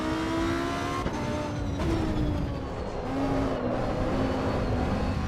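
Lamborghini Huracan engine in Assetto Corsa Evo on the Nordschleife, a steady loud roar whose pitch climbs and drops through gear changes, with faint tire noise underneath and no talking.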